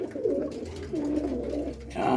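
Almond roller pigeon cooing in low, steady rolling coos close by, continuous across the clip with a brief rise near the end; no talking.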